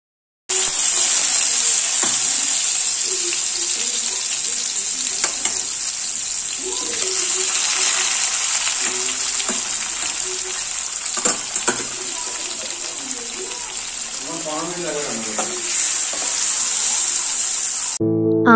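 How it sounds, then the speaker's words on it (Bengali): Fish coated in mustard paste and green chilli fries in oil, a loud continuous hiss and sizzle with occasional spatters and stirring scrapes, starting abruptly and running steadily to the end. "এবারে চলো মাছটাকে ভালো করে ভেজে নিই"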